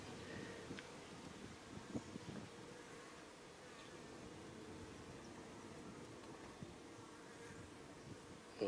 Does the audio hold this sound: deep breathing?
no